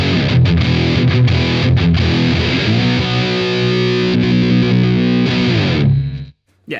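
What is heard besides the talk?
electric guitar through Valeton DS-10 distortion pedal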